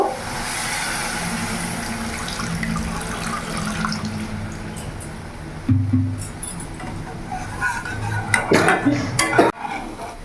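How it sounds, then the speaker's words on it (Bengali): Water poured into a pan of frying spice masala for a vegetarian curry, a running splash and sizzle that starts steady, then breaks into louder clattering bursts near the end. "এবার এরই মধ্যে আমি জল অ্যাড করব"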